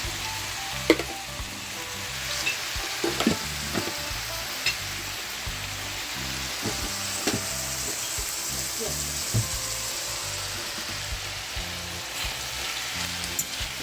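Ingredients stirred as they fry in coconut oil for plantain and ackee cups, a loud continuous sizzle with scattered utensil clicks and scrapes against the pan, no speech.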